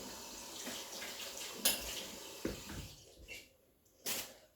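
A spoon rinsed under a running kitchen tap while making a mayonnaise dish, a steady broadband splash of water with a few louder clatters and surges as the spoon moves through the stream, close and alone.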